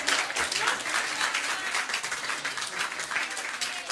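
Pub quiz audience at The Granta applauding the winning team, a dense, sustained round of clapping from a crowd that carries evenly from start to finish at moderate distance.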